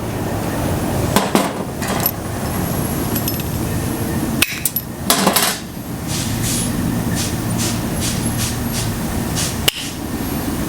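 Wiss and Malco tin snips cutting through sheet material, heard as sharp metallic snaps and clacks scattered over a continuous gritty background, loud and close, with no talking.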